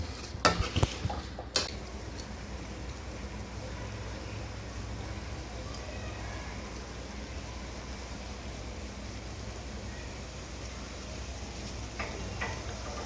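Puffed rice stirred with tempering in a pan, Brahmin-style mandakki oggarane: a few quick metallic clatters at the start, then a steady dry rustling and scraping that continues evenly throughout.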